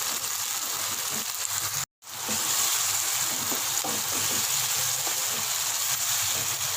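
Garlic and ginger frying in a pan for dal chana fry, a steady close sizzle and hiss running throughout with soft stirring scrapes and a momentary cut early on.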